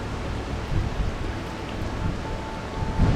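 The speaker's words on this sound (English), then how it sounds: "I love swimming in the rain." Heavy monsoon rain pours onto a hotel swimming pool in Railay, Thailand, a dense, steady hiss and patter of drops on water, loud and close throughout, with no talk.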